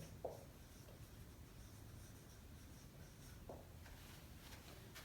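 Someone writes on a board during a classroom grammar lesson, making faint, quiet scratching strokes with brief pauses between them in an otherwise hushed room.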